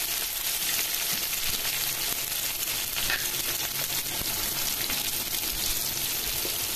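Chopped tomatoes, about five, fry in a hot pan with a steady close sizzle and occasional scrapes and knocks of stirring throughout.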